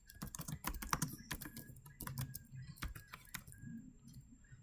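Typing on a computer keyboard while entering an OSPF router configuration: a steady run of quick, uneven key clicks at close range with no talking.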